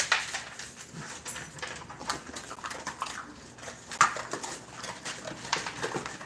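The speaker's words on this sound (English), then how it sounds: "I just had to let the dogs out." Dogs moving around indoors, with scattered paw patters, soft whimpers and light thumps at moderate distance, irregular and fairly faint.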